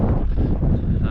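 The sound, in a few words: wind blowing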